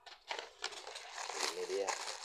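Plastic packaging crinkles and rustles up close while a Fuji contactor is unboxed, irregular crackling handling bursts that grow busier toward the end, with a voice speaking over them.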